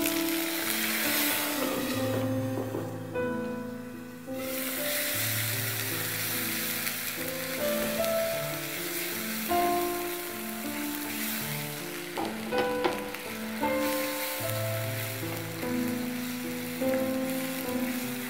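Onion paste sizzles and fries in a pan for a chickpea dal with egg, a continuous close crackling hiss with occasional stirring scrapes.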